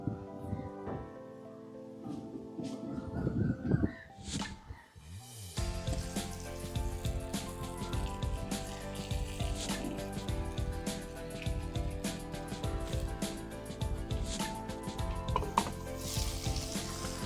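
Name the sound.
jackfruit paturi frying in oil in a wok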